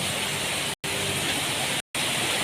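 Heavy rain pours steadily onto a road at night, a dense, loud and continuous hiss broken by two brief total dropouts.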